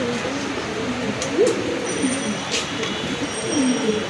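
Pigeons coo in short low calls, a few scattered soft coos over a steady background hum, with faint noise of a busy setting around them.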